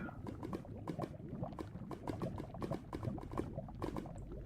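Lava in a Minecraft Futurepack mod game bubbles and pops in a dense, steady stream of soft plopping bursts, fairly quiet with no talking.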